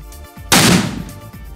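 A single loud Diwali firecracker bursts with a sharp bang, then a crackling, decaying tail over about a second, heard on its own outdoors.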